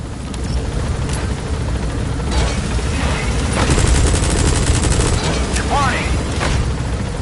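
A helicopter in the video game Metal Gear Solid V takes off and gains altitude, a loud steady rotor roar with a rhythmic chopping pulse and brief game sound effects layered over it.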